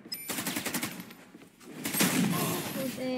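Rapid gunfire bursts from the shooter game Valorant, loud and busy in the first second, then heavier shooting and effects after a brief dip, with players talking over the action.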